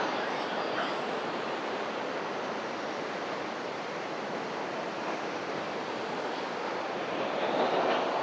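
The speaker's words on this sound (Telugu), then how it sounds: "అక్కడ గేట్ల దగ్గర వాటర్ ఫ్లో అవుతుంటే చేపలు పైకి ఎగురుతున్నాయి" Water rushes out through the gates of the Sileru dam, a constant broad roar that holds steady and loud throughout with no pauses and no talk.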